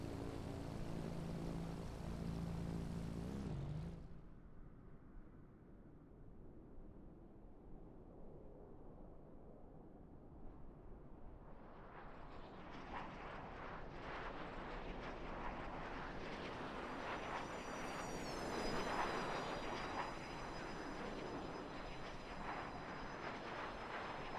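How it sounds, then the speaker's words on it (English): An Epic aircraft landing in a flight simulator game, with a steady propeller engine drone that drops low, then swells back up with rising whine and wind-like noise at moderate volume. "Oh, Epic is landing."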